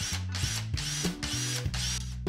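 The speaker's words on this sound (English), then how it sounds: "Carefully drill holes in the top of the filter" A drill bores holes into the top of a filter, the motor surging in repeated short bursts, each with a slightly different pitch, close and moderately loud.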